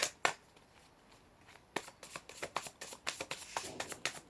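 Tarot cards are shuffled by hand in a quiet room: a couple of isolated slaps, then a rapid, close series of crisp riffling flicks in an uneven rhythm, alone without talk.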